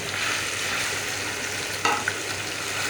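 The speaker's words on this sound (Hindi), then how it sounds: "पेस्ट को हम फ्राई कर रहे हैं।" Spice paste frying in a pan for homemade chicken shawarma, a steady close sizzle with a brief clatter of stirring near the end.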